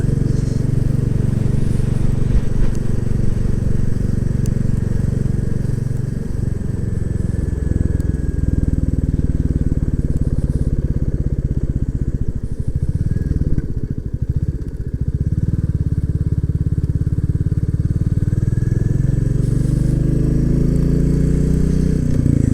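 A Royal Enfield Classic 350 motorcycle rides up a tree-lined avenue, its single-cylinder engine thumping steadily, loud and close throughout with slight shifts in pitch as it travels.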